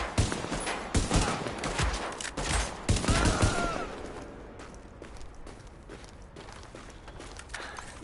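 Rapid gunfire in a Tom Clancy's The Division shootout, dense bursts of shots in the first few seconds, then fading to scattered, quieter pops and movement sounds.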